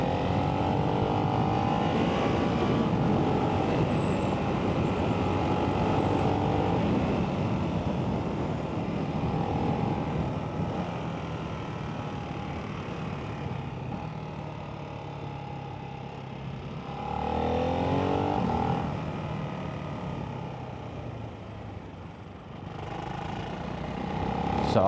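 A 2024 Ducati Hypermotard 698 Mono RVE single-cylinder motorcycle being ridden on the road, a steady engine drone with wind noise that swells as it pulls away and accelerates.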